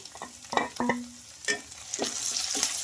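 Curry leaves and onion fry in a pan, a quiet hiss punctuated by several distinct spoon scrapes and knocks against the metal, then a brighter burst of sizzling toward the end, close and alone.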